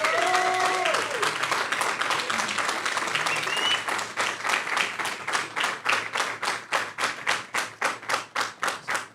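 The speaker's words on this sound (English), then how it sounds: "a round of applause for them." An esports LAN grand final audience applauds, building from mixed crowd noise into steady, loud rhythmic clapping.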